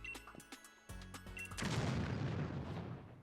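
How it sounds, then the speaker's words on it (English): An explosion booms in the video game Pokemon Sword and Shield. A few sharp clicks and tones come first, then a loud, broad blast rumbles on and slowly fades. "Always bad when there's an explosion, I think."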